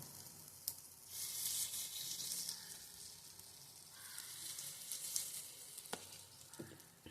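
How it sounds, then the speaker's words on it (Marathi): Oats appe batter cooks in a hot, oil-greased appe pan, giving a soft, steady sizzle with a few light clicks, fairly quiet and close, with no voices. "आप्पे पात्र गरम करून त्यामध्ये सगळीकडे तेल लावून घेणे। त्यामध्ये थोडे थोडे बॅटर तयार करून टाकणे।"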